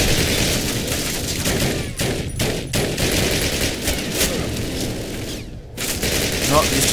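Continuous rapid gunfire in Call of Duty, dense bursts with brief gaps, loud and close, with voices talking over it.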